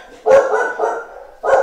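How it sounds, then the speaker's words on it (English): Several dogs barking at close range in two loud bursts, a short sharp bark followed by a longer run of barks, a pause, then another bark, with no talking. "I'll just pause for a minute while I quieten the dogs."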